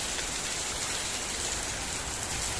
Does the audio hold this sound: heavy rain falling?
yes